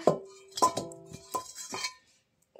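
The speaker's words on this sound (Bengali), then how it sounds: "কড়াইটা বসিয়ে দেব।" A metal karahi wok is set down on a lit stove, giving a few sharp clinks and ringing metallic clanks in quick succession, close by and loud, with short pauses between.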